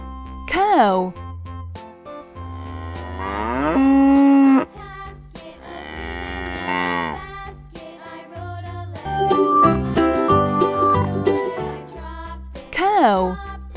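Cows moo again and again, long resonant bellows of varying pitch, close and strong, separated by brief gaps over a low background drone, with no one speaking.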